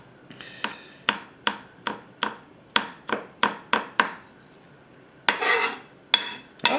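Carrots being chopped on a cutting board with a Yamashin White #1 210mm gyuto knife, about a dozen crisp, evenly paced knife strikes close up, followed by a brief scraping sweep and a couple more cuts.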